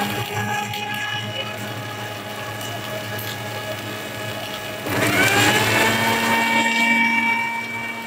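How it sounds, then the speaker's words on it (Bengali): A blender whirs steadily as it purées roasted nuts with milk and a pinch of saffron, a constant motor hum that rises louder and higher partway through as the load loosens. "ভাজা বাদামগুলো দিয়ে দিচ্ছি, ব্লেন্ড করে নিব।"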